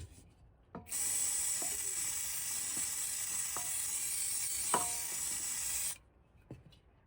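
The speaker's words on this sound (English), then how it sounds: "I'm going to clean around this, and then with some brake cleaner." A long continuous hiss of brake cleaner sprayed onto the engine of a Vespa ET4 Leader scooter during an oil change, lasting about five seconds between a few light taps and clicks.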